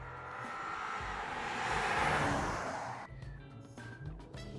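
A 2024 Porsche Cayenne SUV in Sport Plus mode accelerates hard, its engine roar swelling loudly from inside the cabin, then dropping off into a lower rumble.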